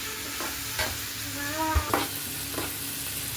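Onion, tomato, ginger and garlic sautéing in a pan for bread masala, with a steady soft sizzle broken by a few scraping stirs of a spoon against the pan, close and alone without talk.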